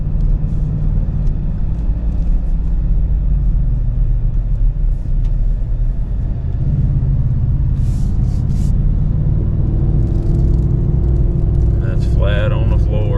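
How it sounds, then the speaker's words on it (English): A Ford 7.3 gas Tremor pickup towing a heavy load starts uphill, its engine a deep steady rumble inside the cab as someone talks over it. "It's gonna start going uphill, so we'll see how she does in a second."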